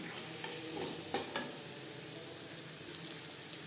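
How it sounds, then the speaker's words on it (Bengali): Potatoes are stirred with spices in a frying pan over a low-oil sizzle, with a couple of scraping stirs near the start and a soft, steady frying hiss through the rest. "মশলার সাথে দু তিন মিনিট আলু নাড়াচাড়া করে নেব"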